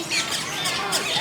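Birds squawking at Disney's Animal Kingdom, a dense stretch of harsh, scratchy calls that overlap in a busy, moderately loud chorus.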